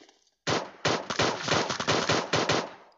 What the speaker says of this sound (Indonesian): Coba aku mau pakai pistol.